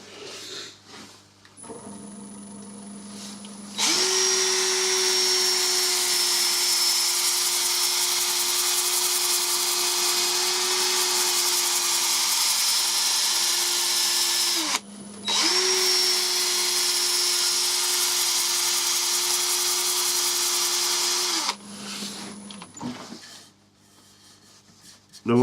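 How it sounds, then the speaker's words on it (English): Dry sanding an elm and walnut bowl at 120 and 180 grit: two long, loud, steady whining runs of the sander against the spinning wood, each lasting about ten seconds with a brief break between them, and no talk. "I'm going to do 120 and 180 as dry"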